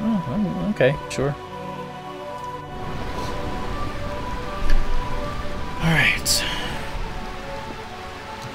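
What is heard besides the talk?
rain falling in Final Fantasy IX Burmecia, video game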